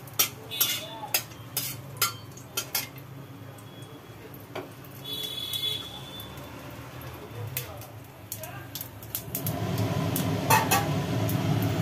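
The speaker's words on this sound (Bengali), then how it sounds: "তেলের মধ্যে পড়লো সর্ষে, একটা শুকনো লঙ্কা, শুকনো লঙ্কা" Mustard seeds and a dry red chili hit hot oil in a Bengali kitchen, giving light spattering ticks and pops early on, then a denser, louder sizzle swelling near the end, with a voice speaking over parts of it.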